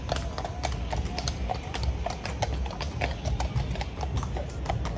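Horse hooves of mounted riot police clip-clop on a hard surface outside a soccer stadium in a steady, close rhythm, sharp clacks repeating over low background rumble.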